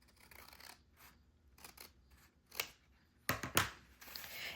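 Scissors snipping through a sheet of paper to cut an envelope flap, a few short crisp cuts spaced apart, the last ones loudest and close by, in an otherwise quiet room.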